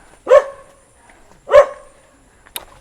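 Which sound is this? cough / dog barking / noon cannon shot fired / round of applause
dog barking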